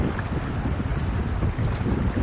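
Gentle waves lap on Lake Elizabeth in Glacier National Park, a continuous soft wash heavily blended with steady wind noise across the microphone.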